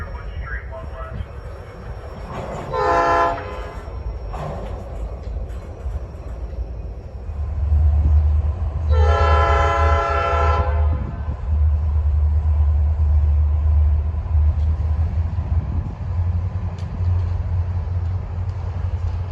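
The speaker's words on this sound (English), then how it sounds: "Once the CSX train has cleared the crossing, the Norfolk Southern local continues on west." A Norfolk Southern local freight train rolling through a grade crossing at Fostoria, Ohio, a loud sustained low rumble that builds partway through, with two bursts of a horn or bell-like tone above it.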